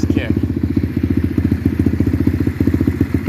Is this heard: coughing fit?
no